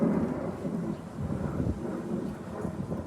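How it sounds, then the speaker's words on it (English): A low, rumbling drone of an airplane passing overhead, distant and steady, with some wind buffeting the microphone. "There's a plane overhead."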